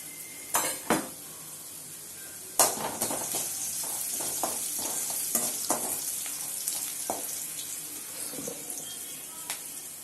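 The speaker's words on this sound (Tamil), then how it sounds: "ஸோ வெங்காயம் நல்லா வதங்கிடுச்சு" Onions fry and get stirred in a pan while cooking rava khichadi, a low steady sizzle carrying scattered clinks and scrapes of a spoon against metal, with several sharper knocks near the start.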